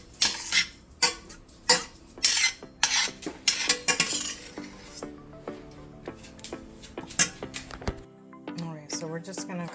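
A utensil scrapes and taps against a dish while meat and basil pesto sauce are spread out, irregular close clinks and rubbing, with a voice talking over it.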